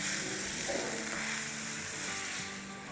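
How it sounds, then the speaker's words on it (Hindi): Chilled minced meat keema frying in a karahi, a dense, loud, steady sizzle close up with a few faint stirring knocks, easing slightly toward the end. "तो बस इसे हम जब तक भूनेंगे जब तक के कीमे का कलर चेंज ना हो जाए।"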